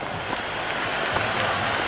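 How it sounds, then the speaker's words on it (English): Cricket stadium crowd at a Sri Lanka versus England T20 match cheering and roaring after a big shot, a dense sustained wash of noise with scattered applause. "It's evident and ever so audible that the crowd is at near bursting point at today's play."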